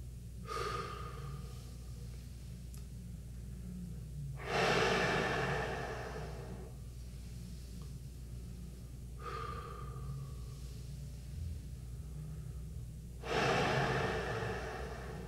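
Air is blown through a brass instrument's mouthpiece without producing a tone: two long breathy bursts of rushing air with softer airflow between them, close and moderately loud, with no spoken voice.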